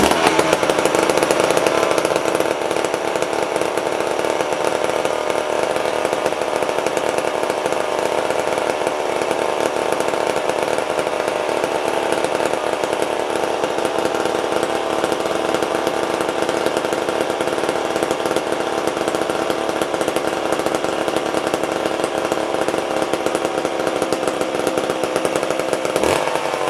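An old vintage McCulloch chainsaw, unused for a long time, roars loud and close, running at a steady high-pitched buzz for the whole stretch without a pause.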